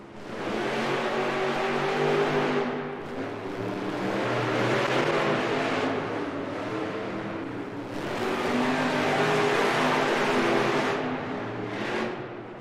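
Monster Jam monster trucks race at an indoor Freestyle Mania event in Rosemont, Illinois, their engines roaring loud and continuous, surging in waves as they rev, with a brief dip partway through and no talk.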